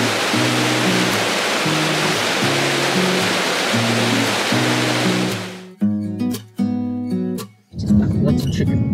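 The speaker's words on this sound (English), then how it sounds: "This waterfall is called the Shower of Energy." Alpine waterfall called the Shower of Energy beside the Grossglockner High Alpine Road in Austria roars as a loud, continuous wash of water. Voices and tonal sounds run over it, and the roar cuts off partway through.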